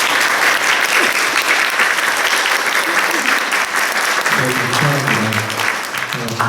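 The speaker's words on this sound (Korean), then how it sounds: "다시 한번 환영의 박수 한번 보내주실까요?" A church congregation gives welcoming applause during a Sunday service, dense sustained clapping from many hands that fills the room, with a voice beginning to speak over it near the end.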